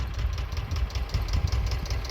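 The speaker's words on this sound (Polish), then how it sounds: "będę jechał traktorem." An Ursus C330M tractor engine idles close by with a low, uneven, knocking chug, a steady rough pulse with no voices.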